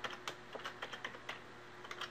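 Quick, light keystrokes tap on a computer keyboard in an irregular run of about a dozen clicks, close and quiet, with a faint hum beneath.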